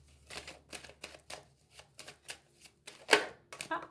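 Tarot cards being cut and shuffled by hand: a run of short papery riffles and snaps, a dozen or so brisk bursts close by, with one sharper slap near the end.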